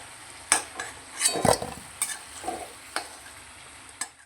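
Potato pieces fry in hot oil for a jackfruit biryani while a spoon stirs and scrapes the pan, with a soft sizzle under a string of sharp metallic clinks.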